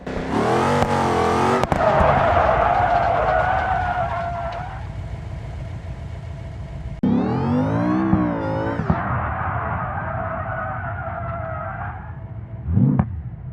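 A car in BeamNG Drive skids and spins out, with a loud revving engine and long squealing tires that rise and fall in pitch, then a sudden cut and a second squealing slide before a short thump.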